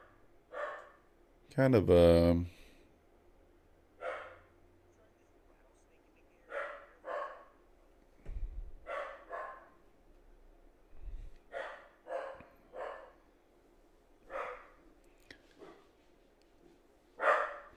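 A dog barks sharply, loud and close, in scattered single barks spread over the stretch, and someone speaks briefly between them.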